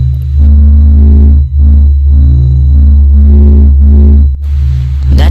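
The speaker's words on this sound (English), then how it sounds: "That's the sound of Mercury." A space sound representing planet Mercury plays as a loud, deep droning rumble with a hollow, swelling tone that pulses and briefly dips twice before a sharp hiss at the end.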